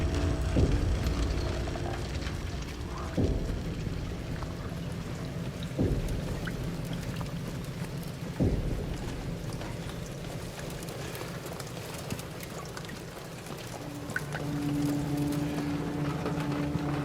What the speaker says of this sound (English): You don't just hear rain. You hear what the rain is hitting